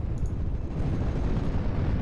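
Bombs from a Ju-87 dive bomber strike howitzer positions in Steel Division: Normandy 44, heard as a deep, continuous rumbling blast lasting about two seconds with heavy low-end roar and no talking.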